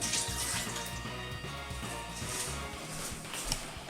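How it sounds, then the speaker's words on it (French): Cool water runs from the beer tap of a SEB BeerTender VB310E10 countertop dispenser into a glass, a steady soft trickle heard up close with no talk. "je mets simplement un peu d'eau fraîche dans le robinet"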